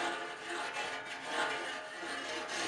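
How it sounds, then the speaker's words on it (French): A brush scrubs a hot stainless steel barbecue grill grate, a close, raspy scraping in quick back-and-forth strokes lasting under three seconds. "juste par sécurité, on va passer un bon coup de brosse"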